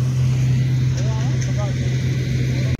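An MF 260 tractor drives a KSA chopper machine at 1800 RPM, a steady loud low engine drone with constant mechanical hum, heard close as someone talks over it.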